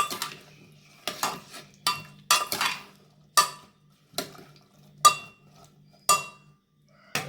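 A spoon stirs turmeric into a vegetable dal, knocking against the pot in distinct, sharp metallic clinks spaced about a second apart, with near silence between them.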